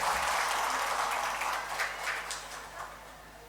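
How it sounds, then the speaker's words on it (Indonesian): Applause fills a Quran school graduation ceremony, steady broadband clapping from a large audience that stays loud then slowly thins out over a few seconds. "Kita beri tepuk tangan penghargaan buat semuanya."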